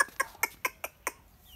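A local rooster chick gives six short, evenly spaced chirping clucks in quick succession, close and clear over quiet background.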